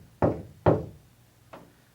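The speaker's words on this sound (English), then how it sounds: "I'll bang 3 times" Three sharp knocks bang out a signal, the first two close together and the third softer after a pause, with no voices around them.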